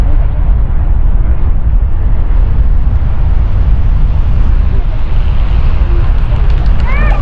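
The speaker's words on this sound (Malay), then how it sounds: "Wah, angin kuat weh." Strong wind roars loudly and steadily on a cable car ride in Taif, a dense, unbroken rush of air buffeting the microphone from start to finish.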